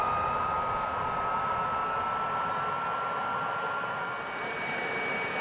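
A Fouga Magister CM170 jet engine spools up during startup in the MSFS flight simulator, a loud continuous whooshing roar with a high whining tone that slowly climbs in pitch.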